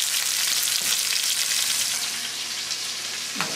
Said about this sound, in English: I'm going to put the onions right in the frying pan.